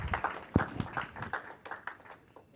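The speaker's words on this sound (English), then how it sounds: "Yes, so definitely a round of applause." A small audience at a team presentation gives a short, light round of clapping, scattered individual claps rather than a full ovation, fading out within a couple of seconds.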